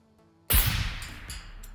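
A single rifle shot fired through a large suppressor in the video game SCUM gives one sharp muffled crack that trails off into a short echoing tail, with no talk.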